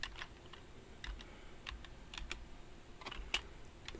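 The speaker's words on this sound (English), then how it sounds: "I'm going to type in" Someone types on a computer keyboard, a quick irregular run of light, close key clicks with a slightly sharper tap near the end, with no talk over it.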